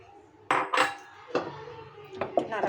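Egg white stirred into curdling milk in a pan, heard as a few loud metallic scrapes and clinks of a utensil against the pan, irregular and close, with no talking.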